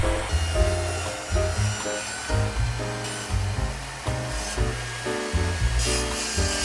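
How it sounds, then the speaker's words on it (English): A wooden handle being shaped from firewood, with a table saw helping to remove material, comes through as steady, close, rhythmic rasping and sawing strokes with a low, buzzing hum underneath. "I'm hand carving with a little help from the table saw to remove some material."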